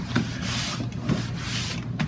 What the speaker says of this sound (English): So what we do when we're sanding it is actually we're sanding it like this